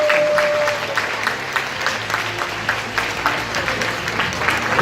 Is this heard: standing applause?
yes